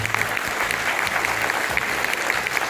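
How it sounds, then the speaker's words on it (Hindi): An audience at a Delhi dance and singing competition claps for the teachers, a brief burst of dense, steady applause from many hands, fairly loud throughout. "तो अपने गुरुओं के लिए एक बार बस ताली बजा दें।"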